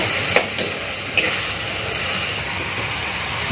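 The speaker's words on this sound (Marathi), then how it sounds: "फोडणीमध्ये मीठ टाकलं तर कांदा आणि टोमॅटो व्यवस्थित भाजलं जात आहे" Onion and tomato fry with salt in a tempering for a large pav bhaji batch, giving a soft steady sizzle broken by a few sharp clicks of a spatula against the pan.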